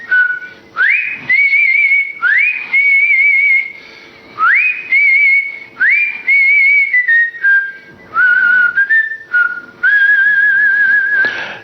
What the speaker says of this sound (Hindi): सीटी बजाना भी एक कला है।